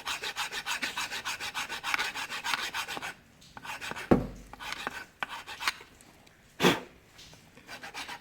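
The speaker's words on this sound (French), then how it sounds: "Je prends ma plaquette neuve, je prends une lime et j'usine un petit peu, je fais des petits angles" A hand file rasping the corners off a new front brake pad for a BMW 120d, heard as quick rhythmic back-and-forth strokes, close and alone, with a pause and a few sharp knocks before shorter strokes resume.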